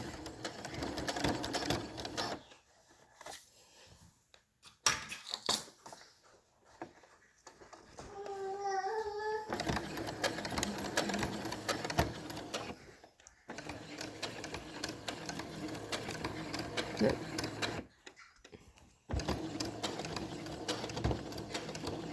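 A sewing machine back-stitches a washable fabric face mask in quick rattling bursts, pausing and restarting several times, close and clear, with a brief whirring pitch sweep in the middle.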